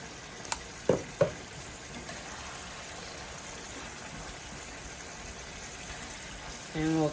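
Ground meat for a lasagna meat sauce, seasoned with garlic powder and Italian seasoning, fries in a pan with a steady, soft sizzle throughout, broken by a few sharp utensil knocks early on and a brief louder scrape near the end.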